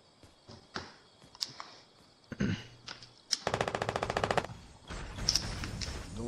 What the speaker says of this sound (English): Doing some shooting.